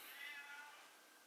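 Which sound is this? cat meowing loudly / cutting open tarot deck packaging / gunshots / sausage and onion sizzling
cat meowing loudly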